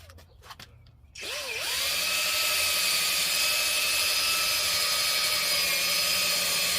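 Power buffer polishing the paint of a 2014 Audi Q5 after emblem adhesive removal, starting after a few handling clicks, then spinning up into a steady loud whine that holds close and unbroken to the end, with no talking.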